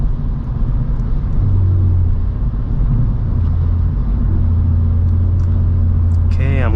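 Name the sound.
Kia Stinger GT2 with Borla active valve exhaust cruising in 8th gear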